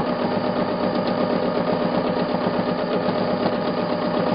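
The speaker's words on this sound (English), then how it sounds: "get yourself up to a speed on the sewing machine that feels fairly comfortable" An Elna sewing machine stitching at a steady, moderate speed, a close, even mechanical whir with a fast regular needle rhythm running without pause and no talking.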